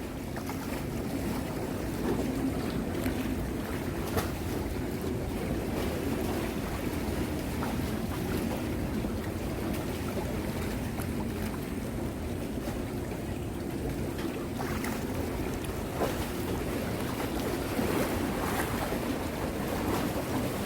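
Sea at a small harbour on the Yangyang coast where a pack of jet skis roams, with a steady broadband engine-and-water rumble, wash of waves and wind buffeting the microphone, constant and moderately loud throughout.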